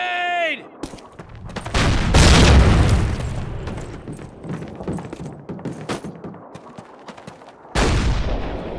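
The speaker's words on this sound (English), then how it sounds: "Grenade!" A grenade going off in a Call of Duty game: a heavy boom erupts and rumbles, followed by scattered gunfire cracks and a second sharp burst near the end, with a shouted voice at the start.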